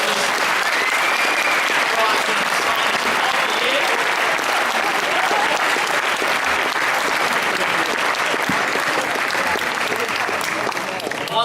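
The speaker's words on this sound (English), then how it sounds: "another round of applause for Terry, the Prime Minister's" A large audience claps warmly for Professor Terry Speed at a formal Canberra ceremony, the applause dense, loud and steady for about eleven seconds without a break.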